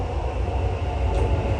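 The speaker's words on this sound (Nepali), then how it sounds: "फाइनली मेट्रो आयो" Dubai metro train arriving, a steady low rumble of rail running with a brief brighter hiss partway through, close and continuous with no voices.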